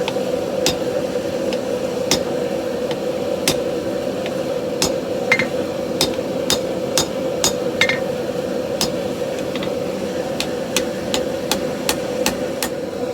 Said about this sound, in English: Use the trusty bottom fuller, start shaping out the handle.